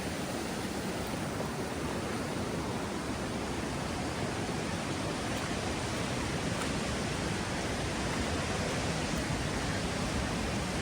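Water rushes over a hidden waterfall in an unbroken, loud roar, a broad even hiss that fills the scene from start to finish with no voices or other sounds.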